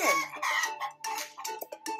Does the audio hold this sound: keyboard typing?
no